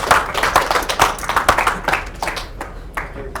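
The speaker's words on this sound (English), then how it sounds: "a round of applause" Scattered hand clapping from a small group at a poker tournament livestream in a casino, brief and fairly close, with irregular claps tapering off toward the end.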